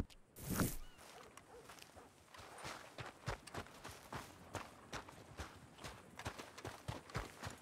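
Horse hooves clip-clopping at a walk in Red Dead Redemption 2 with a Missouri Fox Trotter, a soft and fairly faint steady rhythm of footfalls after a brief louder rustle.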